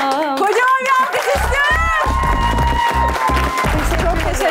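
A talk show studio audience breaks into applause and cheering, a dense crowd clatter with rhythmic clapping that follows a brief voice at the start.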